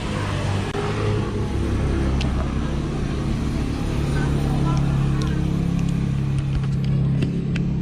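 Motorcycle engine running on a 4-pin battery-operated CDI with no battery fitted, a steady close low rumble for several seconds with someone talking over it.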